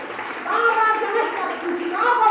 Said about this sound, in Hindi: बच्चों तालियां बजाइए उनके लिए